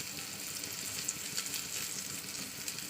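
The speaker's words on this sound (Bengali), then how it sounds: "তো চলুন ডিমটা ভাজা করে নিয়ে পরে ফিরে আসছি আবার" An egg fries in a pan with a continuous close sizzle and crackle, steady throughout with small pops and no voices.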